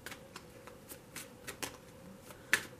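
Oracle cards riffled and shuffled by hand during a tarot love reading, a soft papery flutter broken by several crisp card snaps and one sharp slap near the end, close and quiet with no voices.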